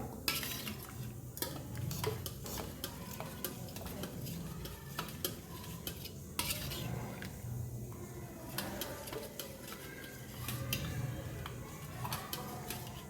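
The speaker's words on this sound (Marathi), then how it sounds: "आता आपल्याला हिला जरा फेटून घ्यायची चांगली" A utensil whisks and stirs rapidly through cooked lentils inside a pot, producing a steady run of soft clinks and scraping taps.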